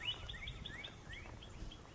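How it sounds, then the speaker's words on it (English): Birds sing in the morning at the Point Campground in Chickasaw National Recreation Area, with faint scattered chirps and short whistled calls over low background hiss. "Birds were real happy this morning."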